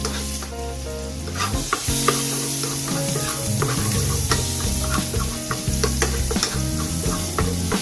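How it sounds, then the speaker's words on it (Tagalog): Garlic and onion sizzle loudly in oil as they are stirred for pork bola bola with mushrooms, the spatula clattering and scraping in quick irregular strokes over a steady frying hiss, with faint musical tones in the background. "Lagay natin bawang, sibuyas, haluin na natin yan."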